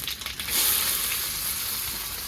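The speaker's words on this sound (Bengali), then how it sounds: "পেঁয়াজটা আমার ভাজা হয়ে গেছে" Chopped onions fry in a pan with whole cumin, carom seeds and two dried red chillies for bhindi do pyaza, giving a steady, close, crackling sizzle with no talk.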